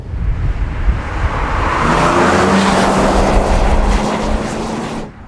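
A Toyota 1JZ engine in a 2003 Toyota Crown Athlete V estate droning steadily as the car drives, a rising mechanical hum over road and wind noise, fairly loud throughout before cutting off.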